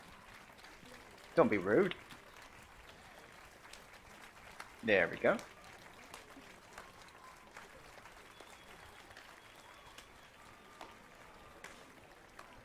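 Scattered clapping from a small crowd in The Witcher 3 video game carries on faintly in the background, with short bursts of speech breaking in over it.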